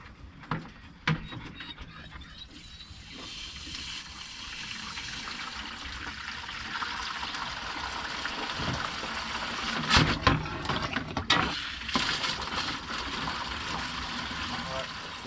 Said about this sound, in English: I'm going to go ahead and pour the water in at the top and we'll see if it actually works.